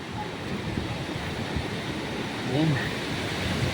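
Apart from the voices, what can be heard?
strong wind on a mountain overlook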